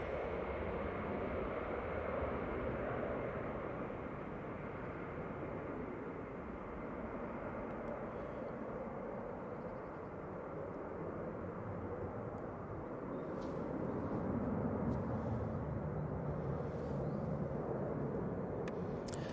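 An EasyJet Airbus A320-200 departs Manchester Airport, its jet roar a faint, broad, steady rumble heard from a distance that swells slightly toward the end.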